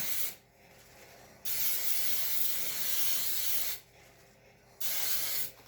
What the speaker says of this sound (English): Baker's Joy, if you don't know, it's a baking spray and it has flour already in it.